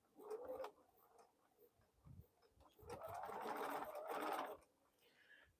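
A sewing machine stitching a quilted bowl cozy: quiet, close mechanical whirring in short runs, swelling into a longer steady burst, with faint handling noises between.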